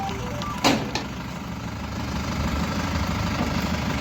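A LOVOL 504 tractor engine idles with a steady low diesel rumble, close and continuous, after a brief knock or clunk near the start.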